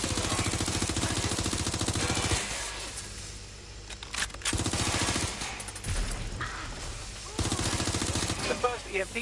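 Rapid machine-gun bursts in Watch Dogs Legion, several long rattling volleys broken by short pauses, with a voice speaking briefly between them.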